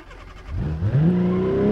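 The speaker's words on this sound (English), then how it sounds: "This engine's not gonna last too long." A car engine in the BeamNG driving game, straining under over-torque and near failure, revs up steadily with a rising pitch, loud and close, with no talk over it.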